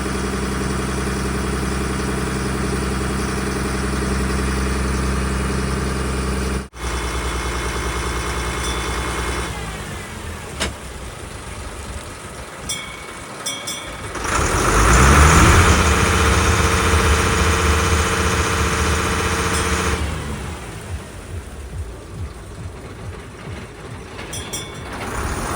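A passenger boat's engine drones steadily on the Alappuzha to Kottayam backwaters, a loud, even idle-like hum with a brief dropout, then rising louder mechanical roar midway before settling back to a steady running tone.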